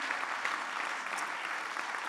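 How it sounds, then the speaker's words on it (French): An audience at a regional retail trade awards evening in Béarn claps steadily, a dense, even wash of applause heard from a little distance and fairly soft. "je voudrais quelques applaudissements supplémentaires pour Casabio"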